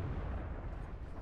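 Heavy artillery shell fire in the tank battle game World of Tanks, a dense continuous rumbling blast filling the whole short moment at steady loudness.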